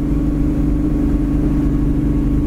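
A 1970 Camaro engine rumbles steadily through straight-pipe exhaust while driving, a loud, deep, continuous drone with no talk over it.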